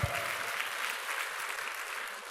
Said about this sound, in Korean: 할렐루야, 박수로.